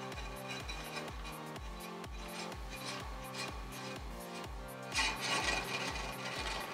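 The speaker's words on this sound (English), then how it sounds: "we're going to use the hand crank and turn it in to cut the inside lip off" A BL505 brake lathe, turned slowly by hand crank, cuts the inside lip of a brake rotor, giving a steady, evenly pulsing scraping rasp with no voices.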